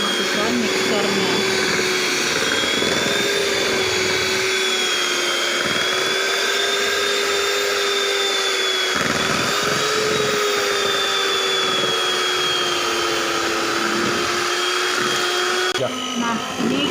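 An electric mixer beats cake batter for a Frozen-themed children's birthday cake, a steady whirring drone with a slowly wavering pitch that runs throughout, with a voice talking over it.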